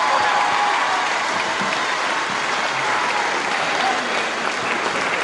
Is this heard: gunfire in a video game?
no